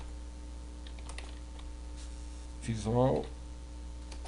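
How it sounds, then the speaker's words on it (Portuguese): Computer keyboard typing comes as scattered light clicks beneath a constant low electrical hum, with someone speaking briefly near the end. "Então é só você digitar aqui, ó,"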